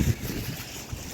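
Wind blowing outdoors beside a tall building with trees nearby, a steady low rumbling gust buffeting the microphone, briefly and fairly loud with no speech.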